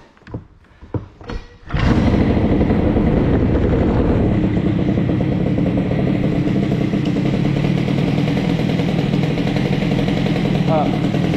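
A cold CPI scooter engine fitted with an Airsal 70 kit fires up after a few clicks and soft knocks, then settles into a loud, steady, buzzing idle close by.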